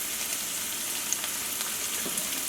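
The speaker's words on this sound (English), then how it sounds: "let them sit until we get that nice hard sear on that flat side" Brussels sprouts sear flat side down in a hot pan with seasoning, giving an even, steady sizzle and faint crackles close by with no talk.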